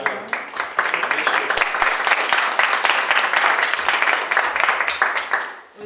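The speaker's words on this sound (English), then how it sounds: "a round of applause for Madeline" A municipal heritage committee gives a departing co-op student, Madeline, a round of applause: a small group clapping briskly and steadily, close and moderately loud, tapering off at the end.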